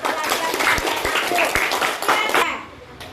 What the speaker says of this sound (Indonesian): Beri aplaus dulu untuk Fatir.